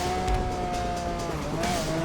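A fast car speeds along in a GTA 5 roleplay chase, its engine droning loudly and steadily with a faint tire squeal, close and continuous for a couple of seconds with no talking.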